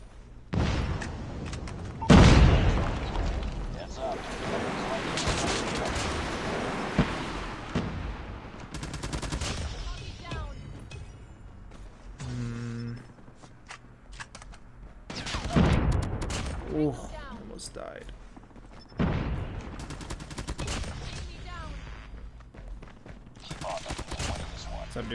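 Automatic gunfire bursts in the mobile shooter Call of Duty Mobile, loud rapid volleys recurring across the stretch with game callouts and explosions between them, and a player talking over the action.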